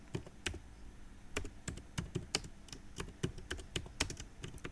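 Steady typing on a computer keyboard, irregular sharp key clicks with short bursts and pauses, close and fairly quiet, with no one talking.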